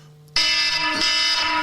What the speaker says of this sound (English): forgot there was an alarm set.